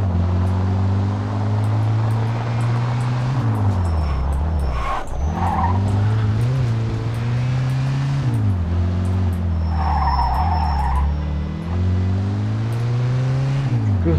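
A fast car in Mafia 2 drives hard through rain, its engine droning and shifting pitch as it revs up and down, with tires skidding and squealing across two long slides, loud and continuous.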